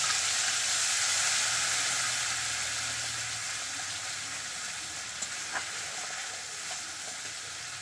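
A ground paste of coriander, cumin, dried red chilli and ginger fries in hot oil with a loud, steady sizzle that slowly eases off, with a few soft clinks of stirring near the end.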